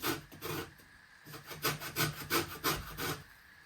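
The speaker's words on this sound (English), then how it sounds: "You want to grate all your orange zest using a grater." Orange zest being grated on a hand grater, heard as a close series of about eight rhythmic rasping strokes, each a scratchy up-and-down scrape with brief pauses between, with no talking.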